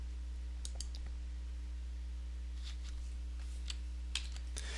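Computer mouse clicks, a handful of faint, sharp ticks spaced irregularly over a quiet, steady electrical hum, with no voices.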